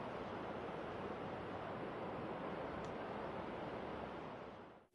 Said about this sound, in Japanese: 地震発生からおよそ30分後、河口から遡る津波の様子が捉えられていました